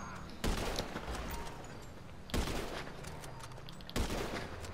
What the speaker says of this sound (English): What weapon is that? A marksman rifle.